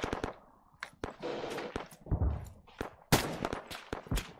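Machine gun fire in the military shooter ARMA 3, sharp repeated bursts and single cracks in an irregular rhythm, some close and loud, others more distant.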